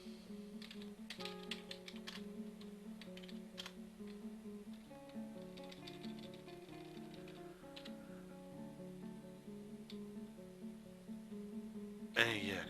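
Light, rapid clicking of a computer keyboard being typed on in irregular bursts, quiet and close, with soft tonal game music running underneath and a sharper clatter near the end.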